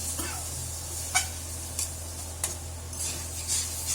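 Mutton curry meat stir-fries in a pan, with a steady soft sizzle and occasional scraping clicks of a utensil against the pan at irregular intervals.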